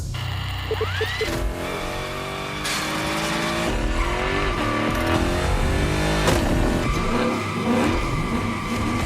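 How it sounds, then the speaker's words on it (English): A car spins victory donuts in The Crew Motorfest racing game, its engine revving hard while tires squeal and skid continuously, with pitch rising and falling through the loops. "that's what we call victory donuts"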